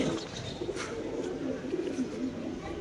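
A pigeon on a Bangladeshi pigeon farm coos softly in repeated low throaty phrases, close by, with faint background chatter and rustling.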